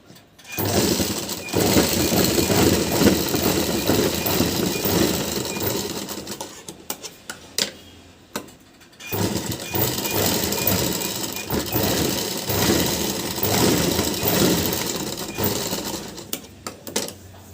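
A sewing machine stitches buttonholes on a new blouse, whirring loud and continuous for long stretches with a brief stop midway, the motor rattle dense and close.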